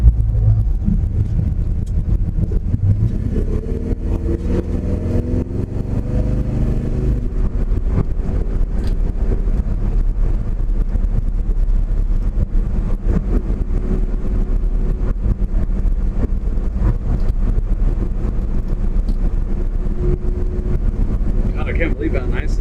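Cabin ride noise inside a moving truck, a steady low rumble of engine and road with wind hiss throughout, while people talk over it.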